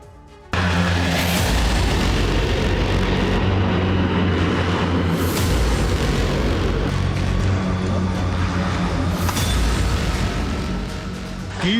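KH-101 missile strikes hit Kyiv with a sustained, heavy roar, and a few sharper booms stand out from the rumble across the span.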